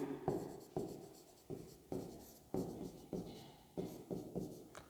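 Chalk or marker writing on a board during a chemistry lecture on geometrical isomerism, with about eight distinct scratchy strokes in an irregular rhythm, close and clear, and no talking over them.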